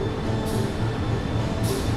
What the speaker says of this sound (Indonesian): Di sebelah ada kita papasan sama kereta api Saunggalih Utama